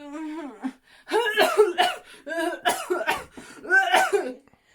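A voice imitates coughing and spluttering in several harsh, throaty bursts separated by short pauses, close and fairly loud.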